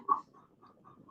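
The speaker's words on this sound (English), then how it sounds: "Our chicken is just talking today." A pet chicken makes one short, soft cluck close up, followed by a few fainter low murmuring clucks in a quiet setting.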